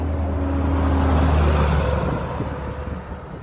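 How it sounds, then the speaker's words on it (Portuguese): A truck passes on a highway near the Salar de Uyuni in Bolivia, a loud low rumble that swells and then fades away, heard alone with no talk. "Caminhão."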